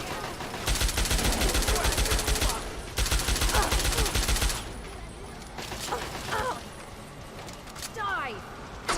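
Loud, dense bursts of rapid gunfire in the video game Fallout 3 fill the first half in two long volleys, then thin out into scattered shots and fainter combat noise.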